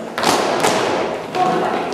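Feet stamping on the floor during a dance lesson, a few dull thuds in uneven rhythm, close and fairly loud, with a voice speaking over them.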